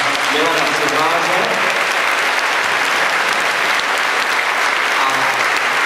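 Sustained audience applause welcoming Professor and Milan Cihlář at a Czech talk event, dense steady clapping filling the room for several seconds with a faint voice or murmur underneath early on.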